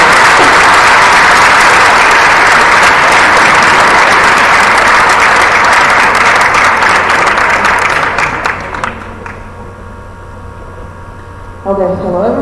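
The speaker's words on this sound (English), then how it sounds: "Big round of applause, definitely." An audience at a pharmacy students' symposium applauds loudly and continuously for about eight seconds, then the clapping thins and fades out. A low mains hum stays underneath, and a voice begins speaking at the very end.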